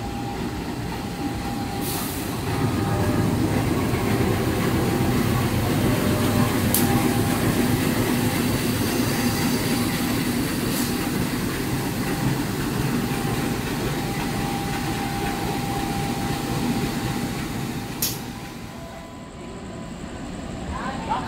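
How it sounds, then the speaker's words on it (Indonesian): The Majapahit passenger train hauled by a CC 201 diesel locomotive rumbles through a busy Jakarta station at night, a steady droning roar of engine and rolling wagons with faint clanks, fading near the end. "Ini rangkaian Majapahit lokomotif CC 201 8909."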